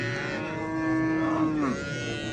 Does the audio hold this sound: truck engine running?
no